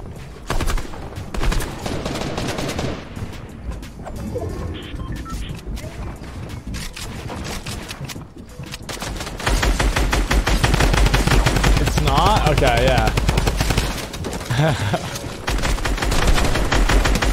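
Fortnite gunfire crackles in rapid bursts and sustained automatic volleys, loud and close, building through the second half over a dense game soundscape.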